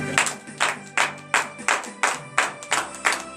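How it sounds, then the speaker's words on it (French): A church congregation at a morning prayer service claps in a steady rhythm, about nine loud, evenly spaced claps in unison with no talking. "Donnez de l'acclamation."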